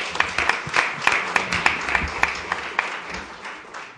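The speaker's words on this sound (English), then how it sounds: "I think we should give a round of applause for" An audience applauds at an honoring ceremony, a dense rattle of many hands clapping that slowly fades over a few seconds.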